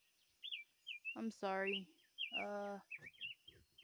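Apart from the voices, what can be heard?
bird chirping outdoors at dawn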